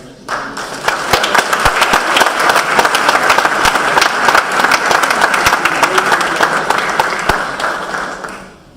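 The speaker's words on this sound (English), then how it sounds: "give a round of applause" A crowd at a 2018 Vietnam Veterans Appreciation Day in Southport gives a full round of applause for a general serving as senior advisor, steady dense clapping sustained for several seconds before tapering off.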